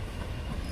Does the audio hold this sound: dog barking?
no